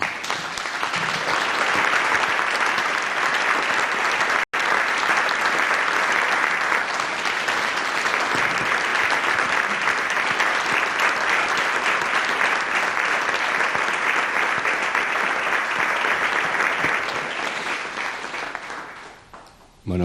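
A crowd at a memorial tribute for Javier Alau Massa gives long, sustained applause, dense and loud clapping that holds steady for many seconds before tapering off at the end.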